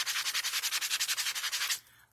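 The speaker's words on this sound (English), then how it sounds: "let me sand this down. I'm just going to use a sanding block it's a little older." An older sanding block scrapes back and forth across a surface in about sixteen quick, even strokes, close and crisp, before stopping abruptly.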